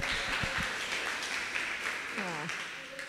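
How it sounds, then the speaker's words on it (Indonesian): Audience applause at a school event celebrating Indonesia, steady clapping with children's voices and chatter mixed in throughout. "Tepuk tangan semuanya."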